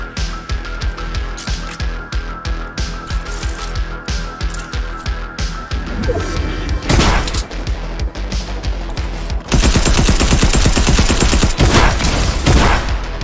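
Gunfire in a Fortnite match rattles off in rapid bursts, steady volleys giving way to a dense, loud stretch of overlapping shots and impacts near the end, with no talking.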